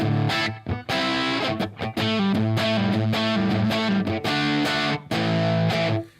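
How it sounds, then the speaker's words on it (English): Loud, crunchy distorted electric guitar chords through an EL34 tube amp ring out continuously, with a few brief stops and restarts between phrases. "it's good EL34 distortion"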